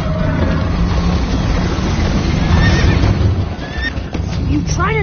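Horse whinnying in the Minecraft Story Mode video game, a rising neigh near the end over a dense bed of game music, hoofbeats and voices talking throughout.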